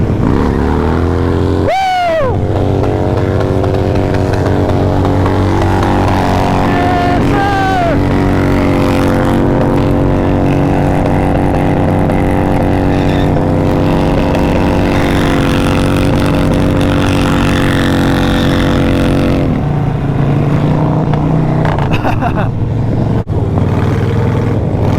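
Motorcycles at a busy rideout roar loudly and continuously, engines droning and revving as bikes ride past and pull wheelies, with a brief whine of a revving engine early on and crowd noise underneath.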